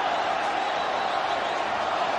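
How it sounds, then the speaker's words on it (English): A stadium crowd of thousands roars and applauds as MS Dhoni walks out to bat, a steady, dense wall of cheering that holds loud and even throughout without letup. "Rapturous applause for him."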